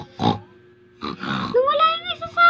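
Children imitate pig grunts with short, rough, close snorting noises and a squealing oink, broken by brief pauses.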